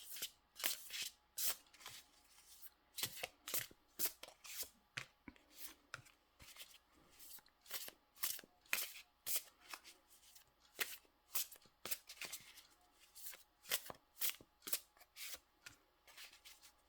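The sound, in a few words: shuffling tarot cards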